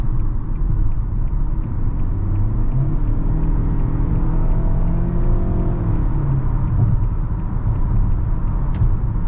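Cabin sound from a 2022 Nissan Altima base trim with its 2.5 engine and CVT, a steady low road rumble and engine drone with a gently rising whir in the middle, continuous and even throughout.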